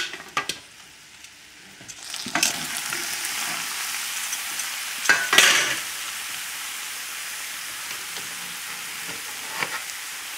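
White sweet potatoes tossed in a hot frying pan, sizzling steadily with scraping stir bursts and a louder clatter midway, close and alone.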